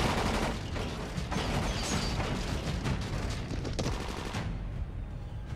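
Sustained gunfire in the video game Dying Light 2, dense rapid shots and crackling bursts running steadily throughout, loud and close.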